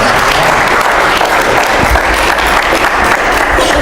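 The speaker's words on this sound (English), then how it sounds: "And that deserves an applaud." A Presbyterian church congregation breaks into loud, continuous applause that fills the room evenly for the whole stretch.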